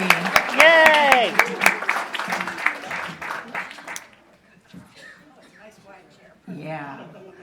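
Audience applause and cheering ring out at a convention Q&A welcoming a guest to the stage, loud and dense at first, then thinning into scattered claps under a voice, with a brief burst of talk near the end.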